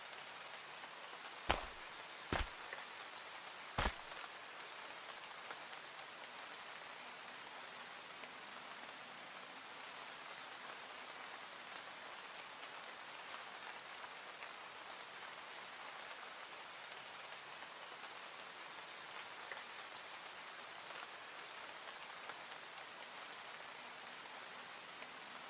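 Steady rain falling in a junkyard, a constant soft hiss of drops on surfaces that continues evenly throughout, broken by a few sharp knocks near the start.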